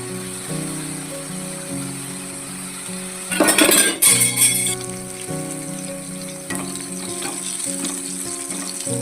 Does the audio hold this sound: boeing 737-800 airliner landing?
no